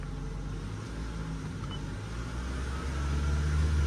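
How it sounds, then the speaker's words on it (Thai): A quiet Toyota Camry 2.5 Hybrid (2019) engine hums low and steady, then rises slightly as the accelerator is pressed, staying soft and close throughout. "นี่เสียงเครื่องผมเหยียบคันเร่งแล้วนะครับ ถึงจะได้ยิน"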